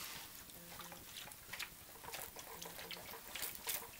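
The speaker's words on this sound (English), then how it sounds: "And then water them in again." Celery and Dusty Miller seeds in a seed tray are watered in after a light soil covering, giving a soft, continuous trickle and patter of water with faint intermittent drips throughout.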